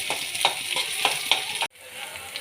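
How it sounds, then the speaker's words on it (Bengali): Whole garlic cloves frying in oil on low heat, a steady crackling sizzle with rhythmic stirring scrapes about every quarter second, close and fairly loud, then cutting off abruptly to a quieter hiss. "গ্যাসকে সিমে রেখে আমি এটাকে খুব ভালো করে ভেজে নেব।"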